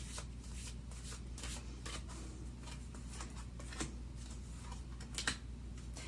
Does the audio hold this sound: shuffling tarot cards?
yes